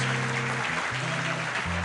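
Church congregation clapping during an evening service, a continuous wash of applause mixed with sustained musical tones.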